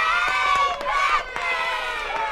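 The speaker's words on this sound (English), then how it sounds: "The narrator finishes telling the story to the kids, and they clap and cheer for Pac-Man." A group of children on a Pac-Man story record clap and cheer, a dense, bright wash of young voices and applause that carries on steadily throughout.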